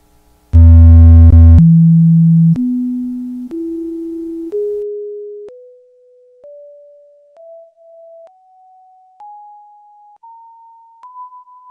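A low E note is played, then its component frequencies sound one after another as pure sine tones, each about a second long, rising in pitch step by step and growing fainter, clean and electronic with nothing else heard.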